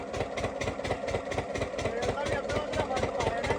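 A farm water-pump engine for paddy irrigation, one that revs up by itself and has run for long hours, chugs close by in a steady, fast rhythmic thumping throb.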